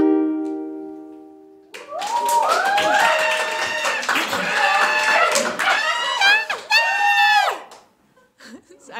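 A crowd cheers and screams at a live music show, with sustained whoops and shouts over scattered clapping that swell loudly after a sung note and then fade out near the end.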